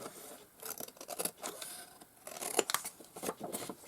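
Scissors cut through paper in a papercraft project, with close, crisp snips and rustling that come in irregular bursts and pauses, and no one speaks.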